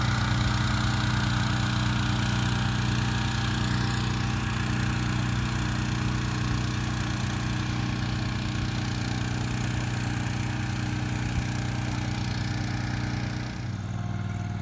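Machine spreading sand onto a golf green, a steady droning engine with a constant low hum and even mechanical rattle, close and unbroken throughout, easing slightly near the end.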